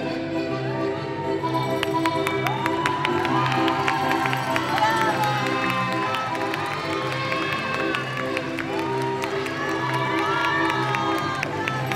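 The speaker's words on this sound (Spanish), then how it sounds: "Brindemos una cálida ovación a estos pequeños griegos por esta magnífica" An audience at a Mother's Day school festival cheers and applauds after a children's performance, a sustained crowd roar with shouting children and scattered voices over a steady background hum.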